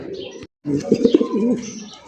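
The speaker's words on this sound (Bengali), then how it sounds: "জুয়েল ভাই মাশাআল্লাহ এক্সিবিশন কবুতর ভাই" Exhibition fancy pigeons coo close by in low, throaty, rolling bursts, broken by a brief silence before the cooing resumes.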